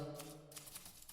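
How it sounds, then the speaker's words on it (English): An old manual typewriter in a quiet room, its keys clacking in a quick, uneven run of sharp strikes with a faint mechanical whir, close and fairly soft, with no voices. "This is the sound of the last typewriter still being used"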